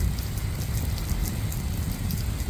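Rain falls outdoors during a trip through Lower Michigan, a dense, steady hiss of drops pattering on surfaces, fairly loud and continuous with no voices.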